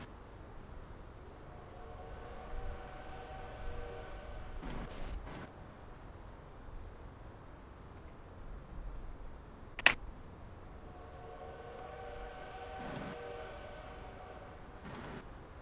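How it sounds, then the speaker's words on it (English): Faint, distant train whistle as a sound effect during a tabletop role-playing game, two drawn-out tonal blasts several seconds apart over quiet background hiss, broken by occasional sharp clicks. "You guys hear a train whistle way off in the distance."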